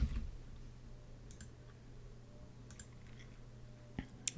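A computer mouse gives a few sparse, faint clicks, scattered singly and in a quick pair, over a quiet low hum with no talking.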